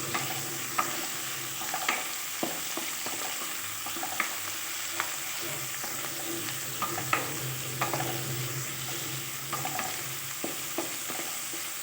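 Crushed garlic for a shrimp-head mash dish sizzles steadily in hot oil, with scattered sharp scrapes and clicks of a spatula stirring through the pan over the continuous frying hiss.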